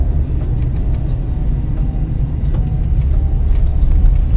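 A car rolls slowly over a desert road in Dubai partly blocked by sand, a heavy steady low rumble of tyres and engine filling the cabin, loud and unbroken with no voices.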